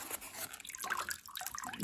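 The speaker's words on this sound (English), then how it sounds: "So I want to see drips when I lift this," Water drips from a hydroponic radish tray as it is lifted out of a nutrient-filled cooler, giving a brief run of light, scattered patters and splashes close by with no talking.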